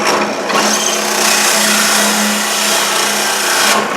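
A power saw cuts through 3/8-inch plywood while making transplant trays, giving a loud, steady broadband whine that holds for about three seconds between brief lulls at the start and end, with no talking.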